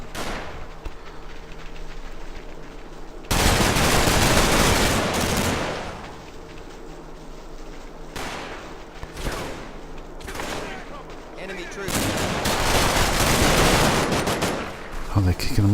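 Battle gunfire in the wartime strategy game Combat Mission Market Garden: heavy sustained machine-gun bursts and volleys roll in repeatedly at close range, with sharper single cracks between them and brief quieter gaps.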